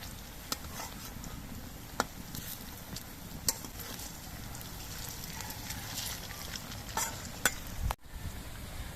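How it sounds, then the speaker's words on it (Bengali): Pakoras of masoor lentils and cabbage fry in hot oil, a soft continuous sizzle with occasional sharp clicks and clinks of a utensil against the pan. "সবগুলো পকোড়া আমি একইভাবে ভেজে নিচ্ছি।"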